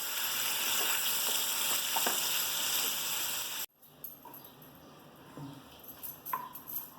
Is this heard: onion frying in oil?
yes